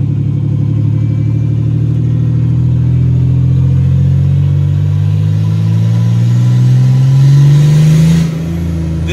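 A turbocharged 4.3 Chevrolet S10 pickup accelerates: a loud, close engine note climbing steadily in pitch for about eight seconds, then cutting off abruptly.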